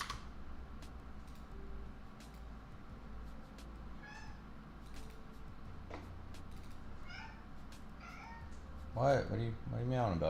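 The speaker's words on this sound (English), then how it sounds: "What are you meowing about?" A cat meows several times, short chirpy calls that build to louder, drawn-out meows near the end, under faint indoor ticking and background noise.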